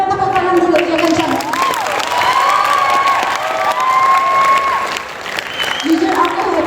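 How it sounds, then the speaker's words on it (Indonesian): A crowd at the UMJ Expo stage event bursts into loud, sustained applause and cheering, with shouts and raised voices mixed into the continuous clapping near and full. "Tepuk tangan dulu yang kencang."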